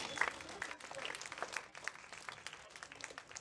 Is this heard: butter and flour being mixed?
no